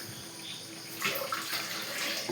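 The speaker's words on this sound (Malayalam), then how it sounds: "തേങ്ങാപ്പാൽ ഒഴിക്കുന്നു." Coconut milk is poured into a pan, a soft steady splashing that grows louder halfway through, close and without voices.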